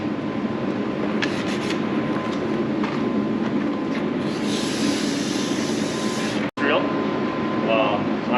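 A steel scraper scrapes along a ski base during tuning, producing a steady close rasp in repeated strokes over a constant background hum.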